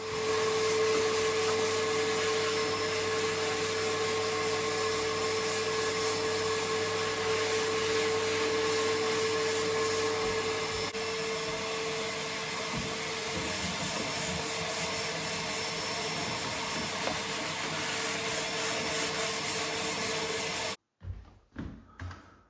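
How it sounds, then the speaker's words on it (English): A power sander works filler on woodwork reveals with a continuous loud whirring drone and rubbing hiss, cutting off near the end with a few short bumps. "get all this filler rubbed down"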